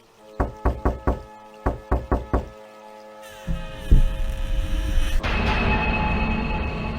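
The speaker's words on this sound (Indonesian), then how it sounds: "mereka segera mengetuk pintu" Several sharp knocks on a wooden door sound in two quick groups of four, close and crisp, then give way to a low rumble and a swelling ambient bed.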